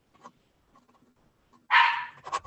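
A pet dog indoors gives one loud, close bark toward the end, with a quieter follow-up yip, after a stretch of faint background noise.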